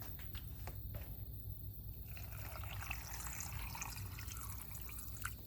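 Water poured over gravel rocks in a Harbor Freight rock tumbler barrel, a soft steady trickle and splash running for several seconds, faint and close.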